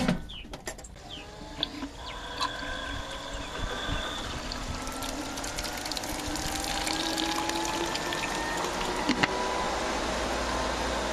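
Water runs steadily into a pool chlorinator tank as it fills, a continuous gurgling wash with a faint rising whine, close and fairly quiet, with no talking.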